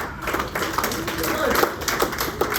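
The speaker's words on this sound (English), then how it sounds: "How many people grew up in a small town? Clap your hands." An audience at Yuk Yuk's comedy club claps briefly, scattered hand claps heard under a comedian talking into a microphone.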